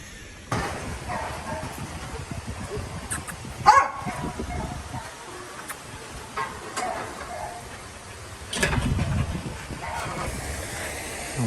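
Dogs bark, yip and whimper at a Soi Dog shelter in Thailand, with a few sharp barks standing out over a busy background while people talk nearby.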